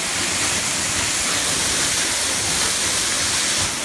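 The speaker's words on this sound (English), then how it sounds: "And you're all the way behind the waterfall." Waterfall at Petit Jean State Park heard from a rock ledge behind the falling water, a loud, steady rushing hiss that fills the whole moment without change.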